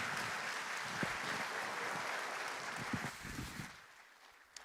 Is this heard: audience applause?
yes